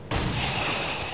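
A single gunshot fired in XCOM 2: War of the Chosen, a sudden loud crack followed by a sustained booming, ringing tail with no voices.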